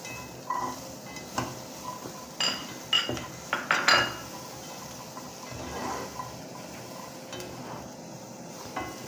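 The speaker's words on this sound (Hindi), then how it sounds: "इसे हमने लाइट सा फ्राई करना है" Bell pepper and onion fry lightly in a pan, a soft sizzle beneath clustered clinks and scrapes of a spoon against the metal, close and moderately quiet.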